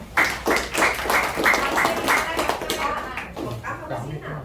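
An audience at an Indonesian health talk gives a burst of clapping in rhythmic waves that fade toward the end, with a speaker's voice running over the claps.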